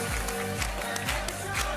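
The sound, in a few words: studio audience applause on TV game show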